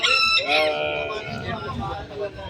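A Dong Tao dragon chicken crows amid a busy pet market. The call is loud and close, a drawn-out rooster crow at the start, then mixed crowd noise and other birds.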